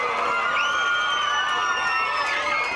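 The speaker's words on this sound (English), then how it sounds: "let's give them a big round of applause." At a fourth grade school performance, an indoor crowd of children and adults cheers for the teachers, a continuous roar with high shrieks and whoops rising over it.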